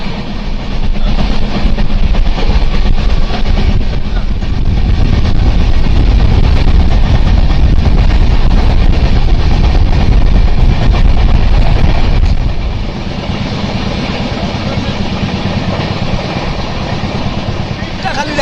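Santiniketan Express, Down Train 12338 from Bolpur to Howrah, running at speed: a loud, steady rumble and rush of wheels and wind that eases somewhat toward the end, with no talk over it.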